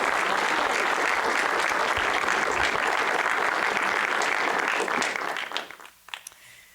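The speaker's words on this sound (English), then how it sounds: "please, another round of applause for Christy" Audience at a community theater group's inaugural performance applauding: dense, sustained clapping from a full crowd, loud and close, that tapers off near the end into a few scattered claps.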